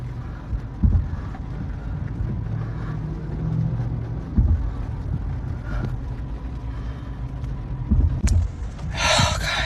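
Several cars pass near a parked car one after another, low engine and tyre rumble swelling and fading in turns, with wind buffeting the microphone and no talking.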